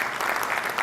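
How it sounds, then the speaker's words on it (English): An audience applauds, a steady wash of clapping hands that fills the brief moment at an even, lively level with no break. "Please give him a round of applause for that."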